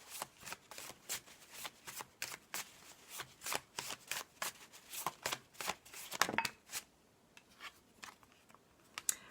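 Oracle cards are shuffled close up in a quiet room, a rapid rhythmic series of soft crisp riffles and flicks that keeps going steadily before thinning out near the end.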